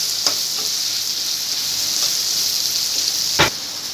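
Onion and green chili sauté in a pan for potato bhaji, giving a steady, close sizzle with a few soft stirring clicks and no talking.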